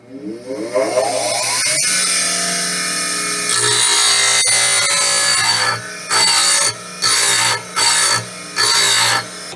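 A drill bit held in a small sharpening fixture is ground on a power sharpener, a loud steady whine at first that breaks into four short, evenly spaced bursts of grinding.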